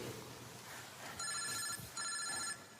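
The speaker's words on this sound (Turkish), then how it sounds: "telefonun çalıyor" A telephone rings indoors with two bright electronic trilling bursts, each about half a second long, clear and fairly loud over a soft room background, with no talking.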